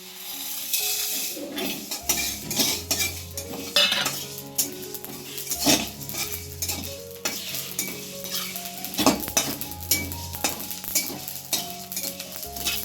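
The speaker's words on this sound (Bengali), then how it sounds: "এটা কিন্তু সমানে নাড়তে হবে তা নাহলে মশলাটা পুড়ে যাবে" Whole spices are dry-roasted in a pan for a Bengali biuli dal snack, stirred constantly with a metal spoon, so repeated close scraping and clinking strokes ride over a light continuous sizzle.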